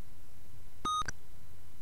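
Electronic cash machine beeps as a cashcard goes into the slot in the point-and-click game Zak McKracken: a short burst of steady tonal bleeps, two or three quick pips, clean and alone against faint background hiss.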